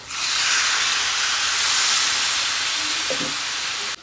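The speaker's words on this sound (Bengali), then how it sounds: "সোয়াবিন কষানো হয়ে গেছে এর মধ্যে দিয়ে দিচ্ছি জল" Water poured into a pan of frying soybean chunks sets off a loud, steady steam hiss and sizzle that holds for about four seconds, then cuts off abruptly.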